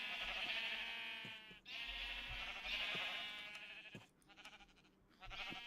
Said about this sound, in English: We are going to collect the sheeps.